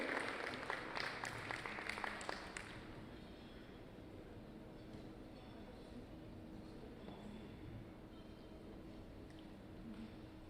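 An audience at a live stage event applauds loudly for a couple of seconds, then the clapping fades into a low, murmuring hall ambience.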